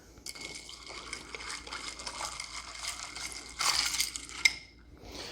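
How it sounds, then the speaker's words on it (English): Ice rattles against glass as a cocktail with coconut rum and Topo Chico is stirred, giving a steady close clinking and swirling sound that ends with a sharper clink. "Gonna give it a little stir."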